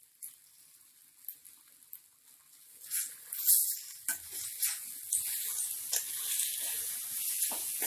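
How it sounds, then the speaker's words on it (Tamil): Onions sautéing with salt in a kadai give off a soft, crackling sizzle that starts faint and patchy, then grows into a steadier frying hiss with light stirring patters, close by and without speech. "நல்லா வதங்கிடுச்சு வெங்காயம்."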